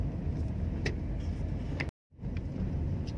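Car driving along a straight stretch after a shift into second gear during a beginner driving lesson, with a steady, muffled engine and road rumble from inside the cabin, briefly cut out by a short gap of silence.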